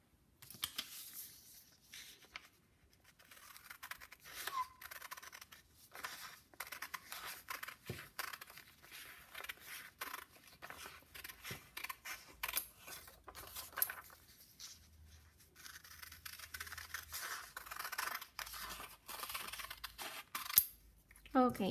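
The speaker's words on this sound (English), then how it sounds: "then we can cut them out" Scissors snipping through paper to cut out half circles, a long run of close, crisp clipping and rustling sounds with brief pauses, and occasional quiet speech in the background.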